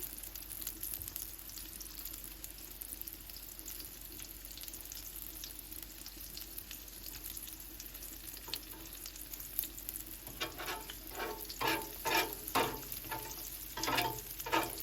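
Pickles fry in oil on a Blackstone griddle with a continuous soft sizzle, and near the end a spatula pushes oil around, adding rhythmic scraping and stirring bursts, close but fairly quiet with no talking.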